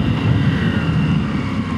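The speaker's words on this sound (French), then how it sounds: "là vous pouvez entendre, ça accélère vraiment assez fort tout de suite" A 2019 KTM 790 Adventure motorcycle engine revs hard under acceleration, a loud, steady low growl with dense rumble throughout, no speech over it.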